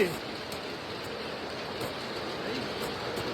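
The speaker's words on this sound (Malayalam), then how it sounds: "മഴ പെയ്തു" Steady rain falls at night during outdoor cable-laying work, a continuous even hiss of drops without pause throughout, moderately loud and close.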